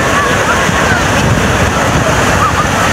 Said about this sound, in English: The wave.